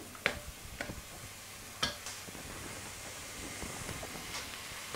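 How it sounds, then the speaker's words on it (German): Onions are stirred in a pot to loosen the browned bottom for goulash, with a soft sizzle running beneath a few sharp scrapes and clinks of the spoon. "Mit der Flüssigkeit der Zwiebeln löse ich schon den Bodenansatz."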